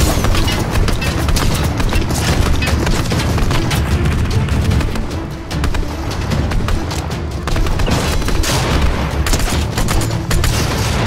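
Loud, continuous gunfire and booming blasts from a tank firing in the Fortnite video game, a dense barrage of shots and explosions that runs without a break.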